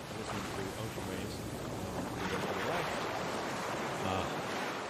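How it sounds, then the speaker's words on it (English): Ocean waves wash and surge steadily in a continuous broadband roar, joined by wind buffeting the microphone, with no clear breaks across the stretch. "Since listening to ocean waves,"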